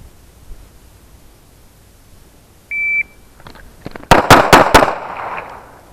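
On a tactical pistol qualification range, a shot timer gives a short electronic beep, then about a second later a rapid string of sharp, loud handgun shots cracks out in quick succession.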